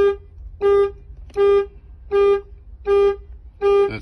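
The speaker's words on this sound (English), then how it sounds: "you can hear the alarm does go back off" A Ford car alarm blares in regular, evenly spaced honking pulses, five or six in a row, loud and fairly close.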